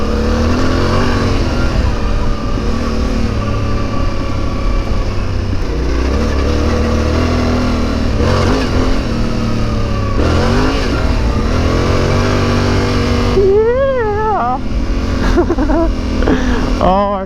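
2021 Yamaha Tenere 700 ridden off-road in dirt, its engine droning loud and close with rising and falling revs, plus a couple of quick revving swoops near the end over constant wind and ground noise.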